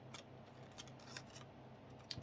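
Faint, close scissors cut through paper with a series of short, crisp snips at an uneven pace over a quiet room background.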